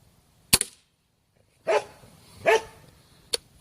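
A Benjamin Trail Nitro Piston air rifle fires one sharp, loud crack up close. Two duller thumps and a final short snap follow, all with no talk.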